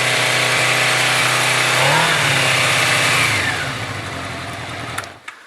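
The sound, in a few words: motorcycle engine revving on throttle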